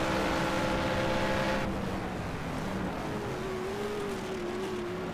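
1971 Can-Am race cars, a Shadow and a McLaren, roar down the straight at Road America, a loud sustained engine drone that drops in pitch partway through as one car passes, with a steady tone continuing afterward.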